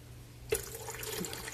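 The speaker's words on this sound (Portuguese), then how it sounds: "Completamos a metade do vidro em água." Water is poured into a pot around a glass jar for making milk caramel: a brief splash onset followed by a short, soft pouring and trickling sound, fairly close.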